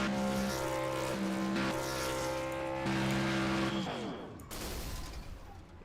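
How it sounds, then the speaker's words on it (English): A racing truck in a dirt-track racing game at Bristol does burnouts, its engine droning loud and steady with a sustained roar that shifts pitch, then breaks into rougher noise as it winds down. "As he is doing his burnouts"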